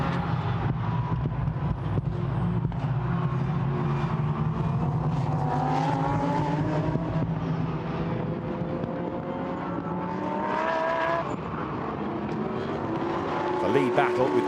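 Lamborghini Super Trofeo race cars braking into Abbey at Silverstone, engines roaring with pitch sweeps as they slow and accelerate through the corners, continuous and loud beneath race commentary.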